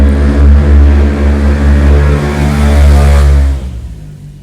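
A loud motorbike revs hard nearby with a strong harmonic engine roar that holds steady, then fades away as it passes.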